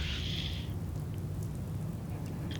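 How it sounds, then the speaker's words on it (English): Steady rain falls in Fallout 4, a continuous even hiss over a low rumbling bed with no voices. "I don't want you to hear Piper whining about the whole rain and it soaking her notes"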